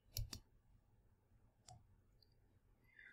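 Two quick computer mouse clicks sound close together near the start while working in Hatch embroidery software, followed by a single fainter click about a second later in a quiet room.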